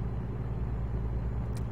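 A Peterbilt truck engine in American Truck Simulator drones steadily with a deep low rumble throughout, close and continuous, with a brief airy hiss near the end.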